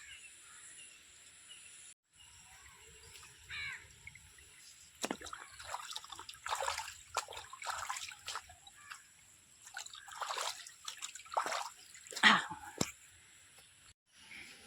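Faint trickling and splashing of rainwater running through a village stream after rain, uneven and close, with bird chirps and soft background sounds scattered throughout.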